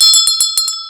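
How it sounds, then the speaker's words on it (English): A hand bell rung in a quick run of bright metallic strikes, about six rings in a second with sustained ringing overtones, close and loud with no voices. "I need to ring my bell for this"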